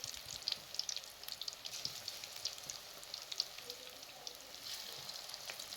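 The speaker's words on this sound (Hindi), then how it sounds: "इसलिए मीडियम फ्लेम पर आपने इस तरीके से पकोड़ों को अच्छी तरह फ्राई कर लेना है" Vegetable pakoras fry in oil over a medium flame, giving a steady, fine crackling sizzle with scattered pops that runs evenly throughout at close range.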